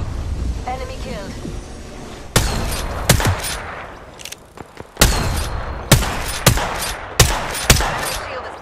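Gunfire in the battle royale video game Apex Legends, played as Revenant: a burst of loud cracking shots, then a string of evenly spaced single heavy reports, with quieter in-game voice callouts and ambience between them.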